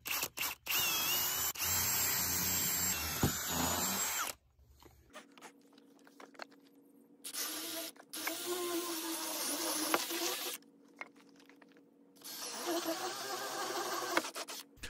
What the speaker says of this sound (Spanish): todo lo que harás es perforar el agujero justo ahí